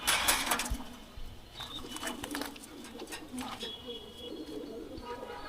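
Pigeons of an old bloodline cooing in a loft, soft repeated coos with brief chirps and some wing flutter, heard beneath people talking nearby.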